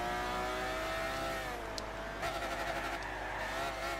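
A Bugatti Veyron engine in the game Gran Turismo 6, a steady loud engine drone with rising pitch as it accelerates, close and continuous with no talk.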